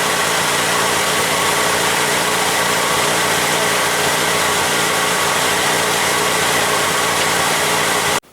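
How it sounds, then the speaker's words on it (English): A Ford 2.3L engine's starter whirs without engaging a flywheel with dead spots, giving a loud, steady, harsh mechanical drone that cuts off abruptly at the end. "Okay, the starter didn't engage well here."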